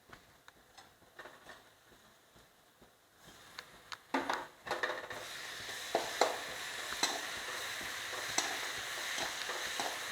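A ground masala of ginger, garlic, pepper, cumin and green chilli goes into a pan for spinach rice, with soft ticking stirs, then a rising sizzle and intermittent scraping clicks as the paste fries.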